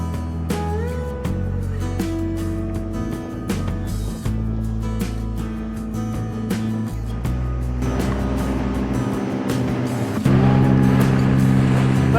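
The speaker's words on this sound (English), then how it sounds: "Dinghy ride today through Tärnskär. Stunning day to do this." A motorized dinghy drones across a lagoon on a calm, sunny day. Its engine hum is loud and close, with water rushing past the hull and shifts in pitch as the boat moves along.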